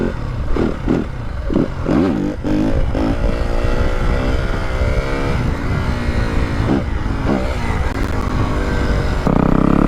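A Yamaha WR250F dirt bike fitted with a new YZ exhaust revs loud and close, its engine note rising and falling in repeated throttle blips before settling into a steady, raspy drone.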